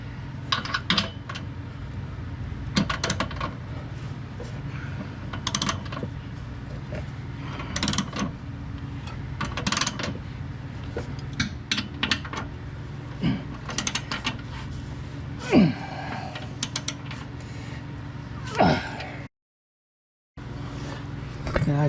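Bolts on a jack rail under a 2006 Mustang being tightened with a ratchet, with repeated short clicking bursts and metallic ticks close by over a steady low hum, with a brief dropout near the end.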